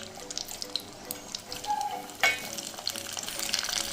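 Cashews and raisins frying in ghee give a soft, steady sizzle close up, with light stirring scrapes and a brief louder crackle partway through.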